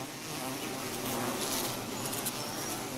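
Bees buzzing in Assam, a steady, faint drone with no break, layered with fluttering wing hum and no voices.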